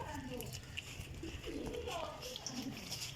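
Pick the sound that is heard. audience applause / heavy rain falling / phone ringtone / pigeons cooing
pigeons cooing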